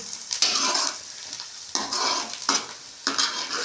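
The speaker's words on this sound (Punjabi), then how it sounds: "ਤੜਕੇ ਨੂੰ ਸਾਰੇ ਨੂੰ ਚੰਗੀ ਤਰ੍ਹਾਂ ਭੁੰਨ ਲਾਂਗੇ" A tempering for palak paneer is stir-fried in a pan, bursts of scraping spatula strokes and sizzle coming in waves between brief quieter pauses, close and fairly loud.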